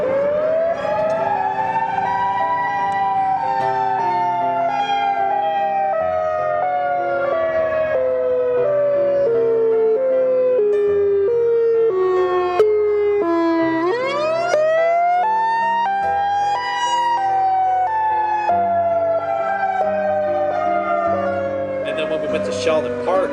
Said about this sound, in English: it's an outdoor warning siren